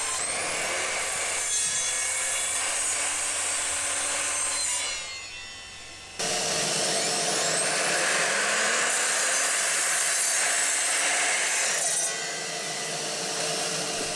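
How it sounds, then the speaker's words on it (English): A miter saw cutting plywood into 45-degree angled brackets in a workshop: two loud, sustained cuts with the blade whining up and down, separated by a short drop in level, close and without voices. "I took a few pieces over to the miter saw and first of all I just cut out some 45-degree angled brackets"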